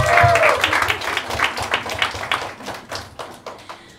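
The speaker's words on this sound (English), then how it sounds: "I think she deserves a round of applause." A small audience at a fitness panel discussion gives a round of applause, clapping that starts fairly loud then thins and fades over a few seconds, with some voices and cheering mixed in.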